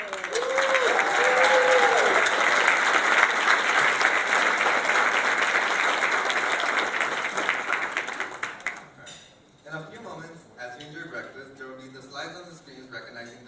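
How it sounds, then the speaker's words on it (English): Loud, sustained applause from a breakfast audience as board members stand, dense clapping for about eight seconds before fading into speech from a presenter. "If you could please stand up so we can give you a round of applause."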